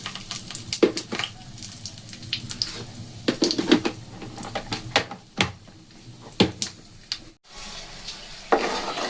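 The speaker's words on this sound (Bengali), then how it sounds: "এখন আমি এগুলোকে একটু তেল দিয়ে, এই দেখুন বড়ি দিয়ে আমি ভেজে নেব" Lentil dumplings (bori) frying in hot oil, a soft steady sizzle broken by sharp scraping and stirring clatters from the pan, fairly close, with no talk.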